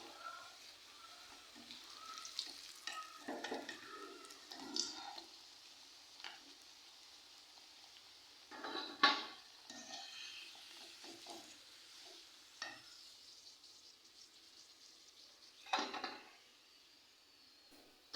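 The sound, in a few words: banana slices frying in a pan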